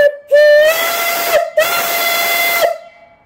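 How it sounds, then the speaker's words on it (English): A live steam engine boiler whistle blows two loud, piercing tonal blasts, each over a second long with hissing steam, separated by a brief gap and followed by a fading hiss. "I'll blow the whistle."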